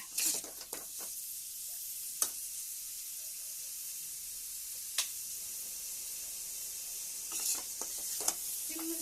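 Chicken gravy masala sautés over a low flame with a soft, steady sizzle, punctuated by occasional sharp clinks and scrapes of a spoon stirring the pan.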